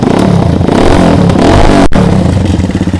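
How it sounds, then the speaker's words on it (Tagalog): An old motorcycle engine revving loud and close while warming up, a continuous rough roar with rattling clatter and rising and falling throttle, one brief cut midway, no talk. "Painitin natin yung makina."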